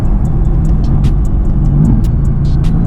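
A Mercedes-AMG GT engine hums steadily up close, its low note shifting slightly on a downshift, with faint ticking clicks above.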